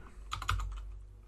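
Computer keyboard typing, a quick cluster of several soft key clicks at close range, faint over a low background hum, with no voice.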